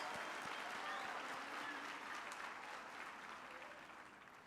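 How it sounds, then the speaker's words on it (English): Graduation ceremony audience at the University of the Free State claps in a broad, even round of applause that is fairly distant and soft. It tapers off toward the end. "I think we should also give a hand of applause"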